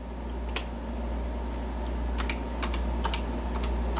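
Commands are typed on a Color Computer keyboard: a run of close, irregular key clicks over a steady low electrical hum.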